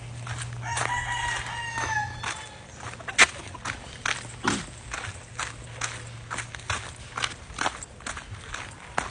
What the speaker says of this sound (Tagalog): Ito ng manok ko, guys.